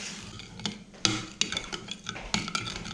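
A spoon stirring couscous with water in a bowl, giving close, irregular scrapes and clinks against the bowl with a few sharper knocks over a soft, continuous shuffle.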